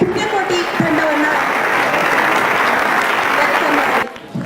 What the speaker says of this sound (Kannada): ಎಲ್ಲರಿಗೂ ದೊಡ್ಡ ಚಪ್ಪಾಳೆಯೊಂದಿಗೆ ಪುಣ್ಯಕೋಟಿ ತಂಡವನ್ನ